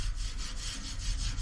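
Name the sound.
wet sanding with scuff pad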